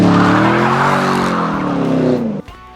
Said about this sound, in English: I am in the fastest, baddest ass Camaro ever made in history